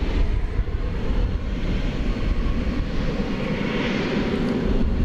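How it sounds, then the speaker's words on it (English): United Airlines Boeing 737 MAX 8 jet bound for Denver at DFW Airport at night, a steady loud broadband engine roar that holds through the whole stretch, nearby and alone without talk. "United Flight 2330 going to Denver, a MAX 8"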